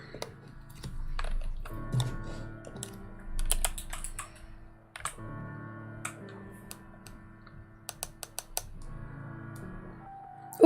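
Clicks of a computer keyboard come in quick irregular bursts as someone types, with pauses between runs, heard close over a soft tonal background with no speech.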